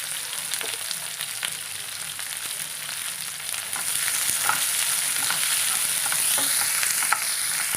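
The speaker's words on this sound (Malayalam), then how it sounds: "സവോള ചേർത്ത് കൊടുക്കാം." Chopped onions hiss in hot oil with curry leaves for a prawn curry, a close, steady sizzle that grows louder partway through, broken by occasional light stirring clicks.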